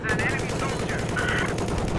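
Gunfire in the video game Battlefield 4, a dense, continuous run of rapid automatic shots with no break, loud and close throughout.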